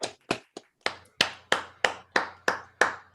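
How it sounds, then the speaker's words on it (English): Online audience clapping for a poet during a live virtual poetry show: a string of about ten separate, sharp hand claps in a loose, steady rhythm, close and fairly loud, with no talking. "feel free to unmute and actually let her hear your applause"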